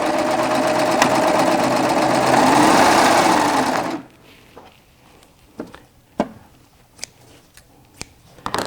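A Baby Lock Triumph overlock serger sews cording with a loud, close, steady mechanical whir for about four seconds, then stops abruptly, followed by quiet handling clicks and taps.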